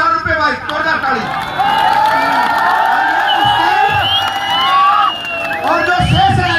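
A crowd at a wrestling dangal in Dundahera, Gurgaon, claps and cheers loudly in rolling bursts while an announcer's amplified voice talks over it; the noise swells and dips across the clip.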